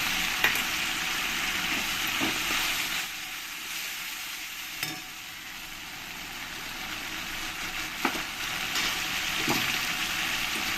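Tomato paste and onions frying in a pan, producing a steady, moderate sizzle with a few faint clinks and utensil taps scattered through it.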